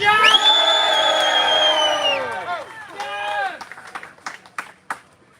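Rally crowd outside the Russian Consulate gives a loud burst of cheering and whooping that lasts about two seconds, followed by a second, shorter round of cheers and then scattered claps and shouts that trail off.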